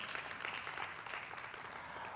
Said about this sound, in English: Another round of applause for Gugu and Telkom